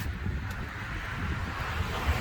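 Steady rushing wind buffeting close to the microphone, a continuous low roar with no other distinct sounds.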